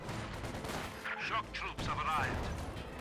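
G43 rifle fire rattles in a Company of Heroes 2 battle, several sharp shots and bursts layered over dense battlefield noise while a voice speaks.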